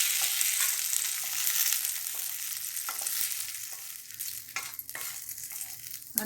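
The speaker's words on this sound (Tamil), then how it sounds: "பாருங்கள், வெங்காயம் தக்காளி வதங்கிடுச்சு." Onion and tomato sautéing in a pan for mint chutney, with a steady, loud sizzle of frying and occasional scraping stirs of a spoon against the pan, close up with no talk.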